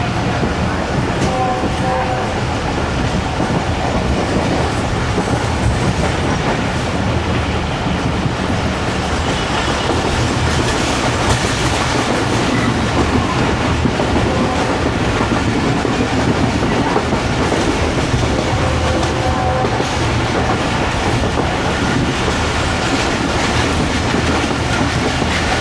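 Pakistan Railway's Pak Business Express rolls on at speed past an abandoned station, a constant heavy rumble with rail clatter and occasional faint wheel squeal throughout, with someone talking over it.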